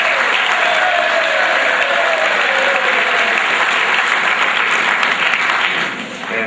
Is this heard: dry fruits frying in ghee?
no